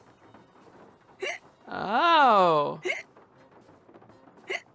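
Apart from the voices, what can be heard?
hiccups from hiccup powder in a video game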